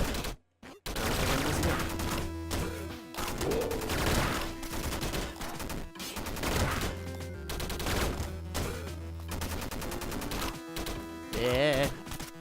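Rapid bursts of short-range machine gun fire from the Downwell video game come in quick, clipped volleys with brief pauses between them, set over a low droning game soundtrack.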